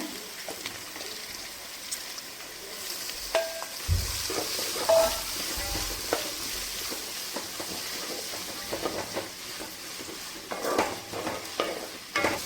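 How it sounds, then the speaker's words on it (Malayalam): Two onions, added after slit green chillies, fry in oil for a restaurant-style chicken biryani: a steady sizzle under repeated stirring scrapes and clatter. "ഇതിലേക്ക് ഞാനൊരു രണ്ട് സവാള ചേർത്ത് കൊടുക്കുകയാണ്"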